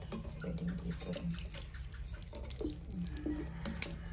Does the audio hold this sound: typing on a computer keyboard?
no